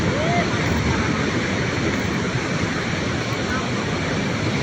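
Water rushes at a river mouth in a forest, a steady broadband roar of flowing current that holds constant and fairly loud throughout.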